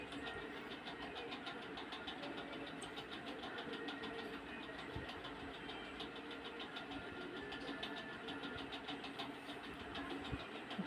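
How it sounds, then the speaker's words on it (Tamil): A mixer grinder whirs steadily as it grinds grated coconut and jaggery into a paste, a faint, continuous motor drone with a slight rapid pulsing and no voices. "தேங்காய் துருவல், வெல்லம் நல்லா பேஸ்ட் மாதிரி அரைச்சி எடுத்துக்கணும்."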